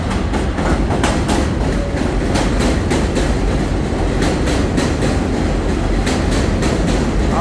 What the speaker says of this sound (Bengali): এখানে মিনিটে ট্রেন আসে